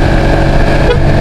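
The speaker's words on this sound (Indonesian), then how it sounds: "Kita coba sepil bunyinya ya, bunyi klaksonnya." A loud car-style horn fitted to a Honda CBR150 motorcycle blares continuously up close, a single sustained honk.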